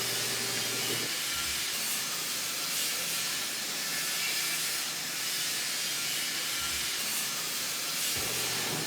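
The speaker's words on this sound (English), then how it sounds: "Locate it and disconnect the air lines from the canister." Pressurised air hisses steadily and loudly from disconnected rear air suspension lines at the air canister of a 2003–2009 Lexus GX 470, a continuous broadband rush that barely varies in level from start to finish.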